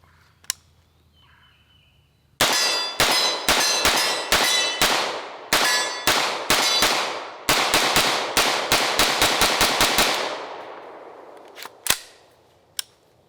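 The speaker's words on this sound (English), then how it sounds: "we're gonna do a quick little mag dump here just to see how these things hold up" Rapid bursts of .45 ACP pistol fire in a magazine dump, a quick string of sharp, loud cracks in uneven clusters with a few isolated shots trailing off at the end.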